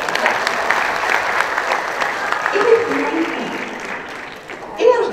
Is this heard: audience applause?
yes